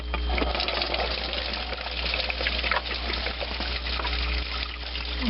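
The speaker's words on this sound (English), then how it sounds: "drain the coolant" Coolant drains from a Dodge Caravan 3.0L engine into a pan as a steady, close trickle and splash under a constant low hum.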